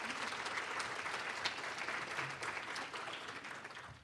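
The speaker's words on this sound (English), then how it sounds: "Let's give them a round of applause in advance." An audience at an expert panel on LGBT health services applauds, a steady wash of clapping from a moderate-sized crowd that holds at even strength for the whole stretch, slightly distant and without talk over it.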